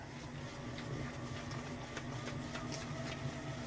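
A KYS Pro Baker 7+ spiral mixer runs at full speed kneading a large batch of pizza dough, giving a steady, even mechanical whir and hum with faint rhythmic clicks, continuous and moderately quiet throughout.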